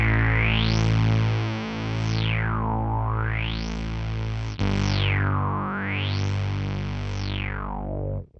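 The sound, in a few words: LFO filter sweep on guitar synth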